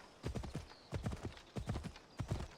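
The horse Phobos trots in Assassin's Creed Odyssey, its hooves making a steady, rhythmic clip-clop in quick repeated groups at moderate, close range, with no talk over it.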